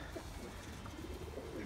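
Pigeons coo softly near a tall coop, with faint, low calls over steady background noise and no talking.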